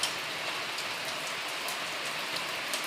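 Heavy rain pours down in a dense, steady hiss of drops hitting surfaces, loud and continuous with no voices.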